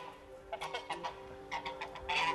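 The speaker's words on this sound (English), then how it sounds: "Crazy bird." A bird lets out a rapid string of nasal, honking calls, several short bursts close by with small pauses between them and a louder, harsher cluster at the end.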